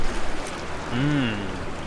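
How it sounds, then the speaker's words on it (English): A river in Yellowstone flows with a steady broadband rush close to the microphone, briefly overlaid by a short rising and falling vocal sound near the middle. "just record the river"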